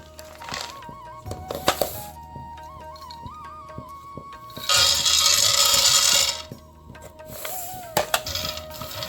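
A cup of peanuts tipped into a pan for toasting, clattering and rattling against the metal in a close burst of small hard impacts, followed by lighter clinks and scrapes.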